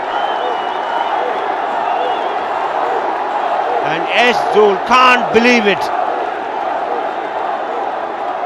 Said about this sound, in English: The crowd is obviously roaring.